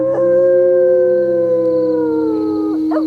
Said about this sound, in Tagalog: Grabe naman ang alulong ng asong yun.